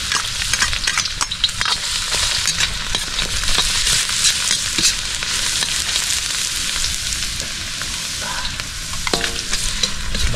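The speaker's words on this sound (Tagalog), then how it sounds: "So tayo mag-gisa na natin mga ingredients." Garlic, onion and other ingredients sizzle steadily as they sauté in a hot pan, with constant bright frying crackle and occasional stirring clinks, close and loud throughout.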